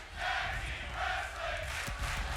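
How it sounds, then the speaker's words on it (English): Arena crowd cheering at a tag team wrestling match in WWE 2K22, a steady roar of many voices that swells in waves, loud and continuous with no clear speech. "This crowd's loving it."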